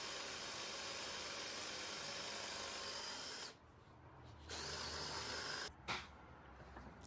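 Power drill boring a hole through a 1x8 pine board with a point bit, a steady close whirring hiss that stops briefly midway, resumes, then cuts out again near the end.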